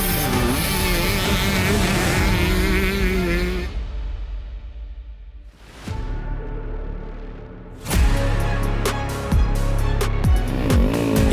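Enduro motorcycles race with throttles wide open through tight corners, off-camber turns and forest passages at an EnduroGP round in Brioude, France, engines roaring loud and near, fading briefly before surging back with sharp revs.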